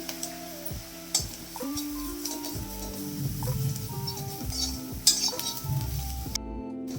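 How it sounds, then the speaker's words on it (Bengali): Fried spices and other ingredients for crispy aloo chop are stirred in a pan with a metal utensil. Soft sizzling runs under irregular scrapes, taps and clinks, close and fairly quiet. "তো সমস্ত উপকরণ আমি আবারও ভালো করে নাড়িয়ে নেব"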